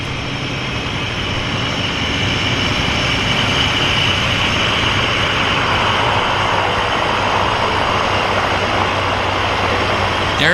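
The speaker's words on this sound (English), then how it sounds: "The Twin Otter flew right between the lions" A de Havilland Twin Otter floatplane drones past at a Vancouver float base, a steady loud engine roar that holds through the whole stretch with no clear rise or fall.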